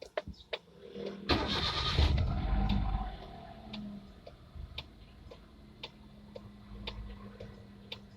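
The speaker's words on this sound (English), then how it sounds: "we need to do right now is just start our engine" Hyundai Eon three-cylinder engine cranks and fires after a spark plug service, a brief loud whirring start that settles into a quiet, steady idle with sharp ticking clicks scattered throughout.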